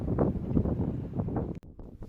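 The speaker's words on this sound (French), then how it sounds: "Et puis, il y a du vent par contre." Outdoor wind gusts buffet the microphone of a camera filming outside, a steady low rumbling roar with brief dips, no talking.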